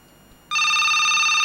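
A telephone rings during a call on a radio phone-in program, a sudden bright electronic ringtone with a steady tone that starts after a quiet moment and holds on, loud and close.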